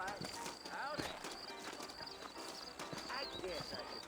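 Horse hooves clip-clop steadily at a walking pace in the video game Red Dead Redemption, fairly close, while people talk over them and an occasional whinny sounds.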